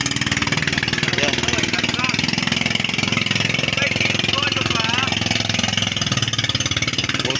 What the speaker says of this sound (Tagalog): Buti na lang 20 kabalyos ang kanyang makina mga idol.